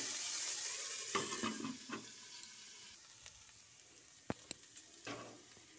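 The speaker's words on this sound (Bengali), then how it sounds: "তাই একটু ভাজা করছি।" Beetroot frying in a pan gives a soft, faint sizzle, with scattered scraping stirs and a couple of sharp utensil taps against the pan, close by and without talk.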